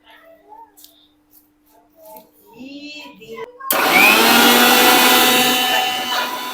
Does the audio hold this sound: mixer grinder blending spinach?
yes